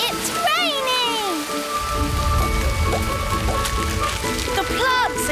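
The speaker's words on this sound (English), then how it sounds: "It's raining." Steady cartoon rainfall on surfaces, a dense, even patter that swells from about halfway through and continues to the end, with bright gliding tones and a voice speaking over it.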